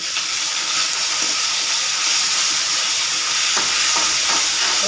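Tomatoes sautéing with salt in a pan on a home stovetop, giving a steady broadband sizzle with a few soft scrapes of stirring near the end and no talking.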